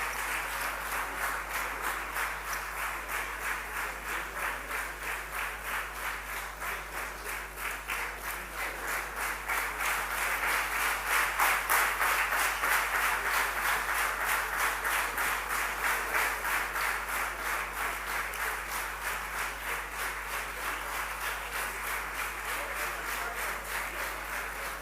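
Sustained audience applause at a community conference in Vashi, Navi Mumbai, as an honoured guest is invited to the stage; dense, steady clapping from a large crowd fills the whole stretch, swelling slightly midway before holding level.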